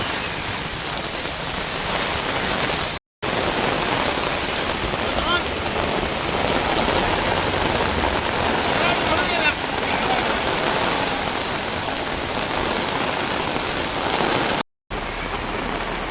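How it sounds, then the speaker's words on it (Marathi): Heavy monsoon downpour in Virar drums loudly and continuously on an umbrella and the street, a dense close roar with brief dropouts and wind buffeting the microphone. "खूप पाऊस आहे."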